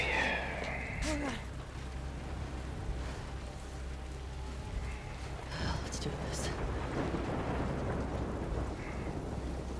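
Rain and thunder in the video game The Last of Us Part II, a steady wash of rainfall with low rumbling underneath and a couple of sharper cracks, while a voice talks over it at times.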